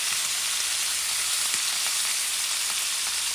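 Steak sizzles steadily in a pan with butter and garlic, a loud, dense frying hiss running continuously with faint pops and no voices.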